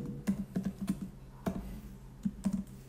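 Someone types a web address on a computer keyboard. The keystrokes come as quick, close, irregular clicks in short bursts, with a lone heavier tap in the middle and no talking.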